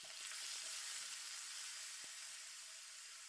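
Roasted-and-ground spice paste with chilli fries in hot oil for a chicken tikka masala gravy, giving a steady, dense sizzle that stays loud and even throughout with a faint scrape of stirring.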